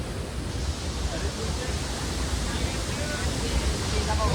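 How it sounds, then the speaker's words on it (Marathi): A deep waterfall rushes far below, making a steady broadband roar that stays even and continuous throughout. "हा वॉटरफॉल बघा तुम्ही"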